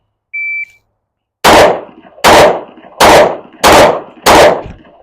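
Five loud, close Glock 19X pistol shots crack at an even pace on a USPSA target range, each with a short ringing tail, after a brief electronic beep from a shot timer.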